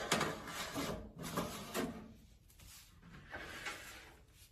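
Food dehydrator trays loaded with oregano are slid into the machine, giving a series of close scraping, sliding knocks that come in uneven bursts.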